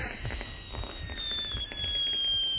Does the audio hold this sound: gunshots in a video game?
yes